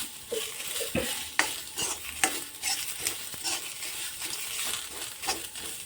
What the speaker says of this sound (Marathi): कांदा पहिले आपण चांगला भाजून घेऊया